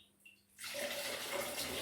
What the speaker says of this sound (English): we're just going to pour through the liquor that's been sat here